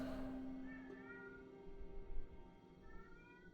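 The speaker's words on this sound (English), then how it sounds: "Can you guys hear my cat?" A cat meows and yowls insistently from another room, faint and distant, two drawn-out cries a couple of seconds apart over a low background hum, with no talking.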